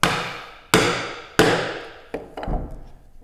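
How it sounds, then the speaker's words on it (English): A wooden mallet strikes a chisel cutting a mortise by hand, giving three loud, sharp whacks at steady intervals, each ringing briefly, then two lighter taps. The blows are close and stand alone, with no talk. "Make sure that you're hitting in square, obviously, and give it a whack."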